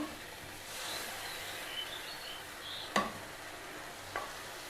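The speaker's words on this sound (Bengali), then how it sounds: "মশলার মধ্যে কাঁকড়ার ঘিলুগুলো কষিয়ে নেব আবার ভালো করে কষিয়ে নেব" Crab brains fry in a spice paste for a crab curry, a soft steady sizzle with occasional scraping stirs and a sharp clink of the spoon against the pan.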